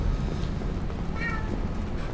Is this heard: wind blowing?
no